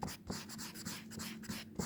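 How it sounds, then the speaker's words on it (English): Writing being erased from a board during a maths lesson, heard as short rhythmic rubbing swipes repeated back and forth at close range, quiet and steady with no speech over it. "Let me just erase this."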